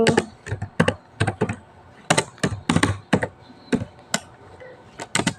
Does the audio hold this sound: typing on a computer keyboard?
yes